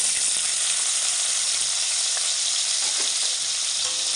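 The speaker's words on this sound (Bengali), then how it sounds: "কাজু কিশমিশটা হালকা করে ভেজে নেব।" Steady, dense sizzling of nuts and raisins frying in hot ghee, a continuous crackling hiss with faint stirring sounds, close and fairly loud.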